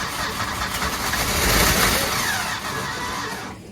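A 1966 Ford engine turning over on its starter, a loud continuous cranking whir that swells in the middle and fades toward the end, heard close.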